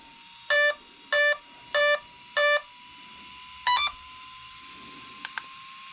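An RC car electronic speed controller on a Kraton basher beeps through its settings menu: four evenly spaced loud tonal beeps, then a pause and a shorter double beep, followed by two faint brief chirps against a steady electronic hum.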